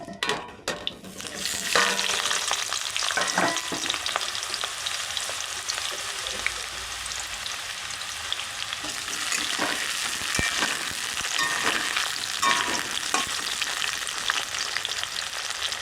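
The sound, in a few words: potatoes frying in hot oil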